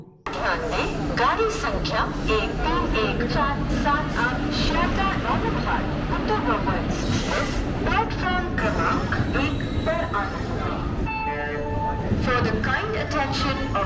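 A night train rumbles steadily along the tracks approaching New Jalpaiguri Junction, with continuous loud clatter and rolling noise, a busy mix of rattles and squeaks throughout.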